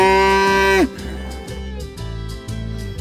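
On a farm, a cow lets out one loud, close moo that cuts off sharply, followed by softer clattering and shuffling sounds from the pen.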